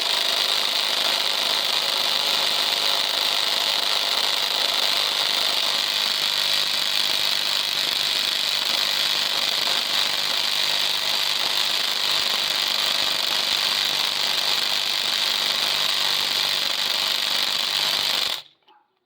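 A Makita, Einhell or Chinese-made impact wrench hammers continuously under load during a test, a loud, steady, buzzing rattle held for about eighteen seconds before cutting off abruptly.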